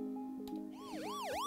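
A custom siren effect played in Minecraft, opening with a faint low hum and brief clicks, then a clear wailing siren sweeping up and down in two quick cycles.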